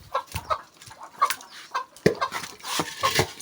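Farmyard chickens cluck in short bursts at feeding time as ducks mill nearby, several birds near and overlapping in an uneven chatter without any talk.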